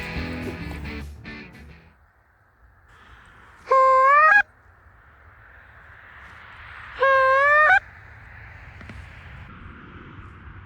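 Canada geese honking over a goose hunt: two loud, clear bursts of calls, each lasting about a second, stand out against a quiet outdoor background with faint rustling.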